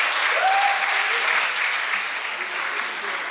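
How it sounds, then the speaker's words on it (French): An audience at a live panel on influencers and culture applauds a speaker being welcomed onto the stage: sustained, even clapping from a sizeable crowd, with a faint voice briefly audible underneath. "merci de l'applaudir s'il vous plaît"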